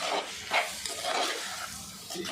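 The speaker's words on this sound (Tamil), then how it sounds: "காஷ்மீர் மிளகாத்தூள் போட்டு நல்லா வதக்கிடுவோம்" Kashmiri chili powder sautéing in a pan for a pineapple buttermilk curry gives off a steady close sizzle and hiss, with soft stirring scrapes rising and falling throughout.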